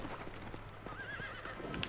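A horse whinnies with a rising, wavering neigh in the video game Red Dead Redemption, set over a steady bed of ambient noise, with a brief sharp clatter near the end.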